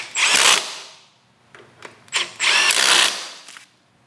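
Short bursts of a handheld power tool snugging the handlebar clamp bolts on a 2008-2013 Harley-Davidson Street Glide motorcycle, four close whirring spurts of varying length separated by brief pauses, with no talk.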